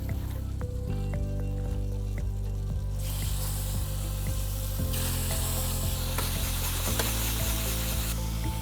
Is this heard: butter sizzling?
yes